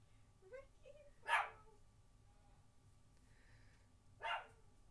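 A dog barks twice, a few seconds apart, fairly close in a quiet room, with faint yips before the first bark.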